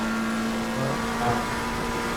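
Engine of a McLaren 720S EVO race car in Assetto Corsa Competizione, a steady droning hum that swells slightly, fairly faint and heard without talking.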